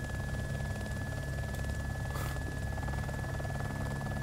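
Little Bird helicopter flying in DayZ, a loud steady rotor chop and engine drone with a constant high whine, heard from inside the cabin without talk.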